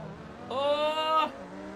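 Race car engines in Forza Motorsport 2, including a TVR, rev up into a loud rising whine for under a second, then drop back to a lower drone.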